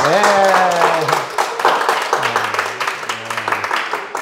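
A crowd's applause at a gathering keeps up as a steady wash of clapping, with voices speaking and calling over it throughout.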